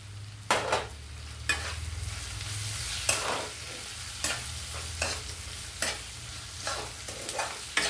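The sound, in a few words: tomato pieces frying and being stirred in a pan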